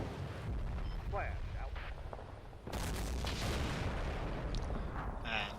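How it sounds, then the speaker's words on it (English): Artillery barrage in the Combat Mission: Black Sea war game, with dense rumbling booms and blasts that surge louder partway through, broad continuous explosive noise and no clear talk. "they haven't cancelled that arty barrage yet"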